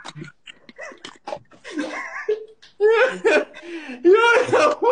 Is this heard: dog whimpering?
yes